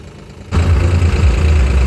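A tractor engine starts up or revs into a loud, steady low rumble and keeps idling close by, during flood relief work in Punjab.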